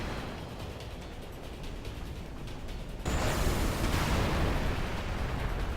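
An explosion in the video game Final Fantasy X starts partway through as a sudden loud burst of broad noise and rumble, then roars and slowly settles over ongoing game sounds.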